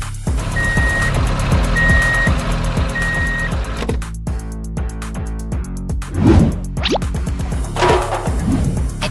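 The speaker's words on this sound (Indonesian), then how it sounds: "Sekarang giliran truk biru itu datang membawa material untuk membangun kembali semuanya." A blue construction truck rolls in with three evenly spaced reversing beeps over a loud, steady engine rumble, followed by scraping and a clanking thud as it pulls up.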